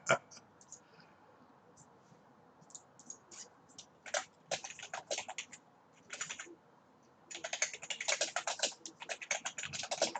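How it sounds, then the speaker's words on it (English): Fast bursts of computer keyboard typing as a message is written, clattering keys in uneven clusters with short pauses, close and fairly clear, with no talking over it. "I'm just typing a message to Jemiah."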